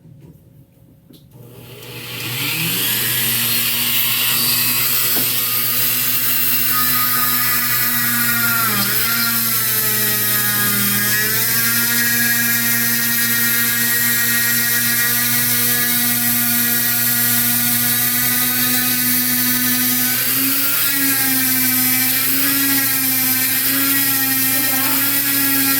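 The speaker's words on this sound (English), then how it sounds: "Now here is where I get the grinder. It's going to get a little loud, but I'm just going to grind this" A grinder working a metal part, starting quietly then spinning up into a loud sustained high whine that holds steady, dipping in pitch briefly a few times under load.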